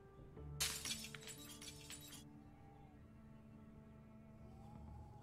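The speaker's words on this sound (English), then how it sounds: "I heard a breaking glass sound." Glass shatters in the video game Project Zomboid, a sudden bright crash with a burst of tinkling shards lasting over a second, then fading into a low ambient game hum.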